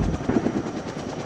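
A helicopter during military air assault training thrums with a low, pulsing rotor beat, heard briefly at moderate distance.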